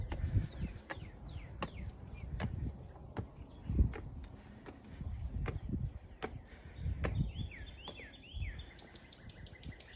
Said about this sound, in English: It's morning, so you can hear a lot of the birds singing.